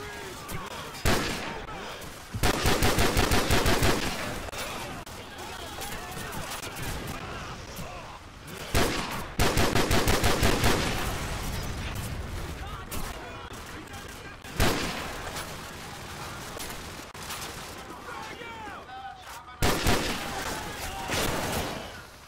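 Heavy bursts of automatic gunfire and explosions from the video game Call of Duty: Modern Warfare, with repeated loud fusillades and brief pauses in between, while voices shout over the battle.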